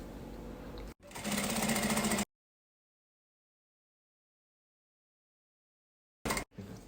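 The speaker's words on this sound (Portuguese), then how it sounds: "Passe uma costurinha, pezinho de máquina aqui." A sewing machine runs a short burst of stitching on pencil case fabric, loud and close, then stops into silence before a brief restart at the end.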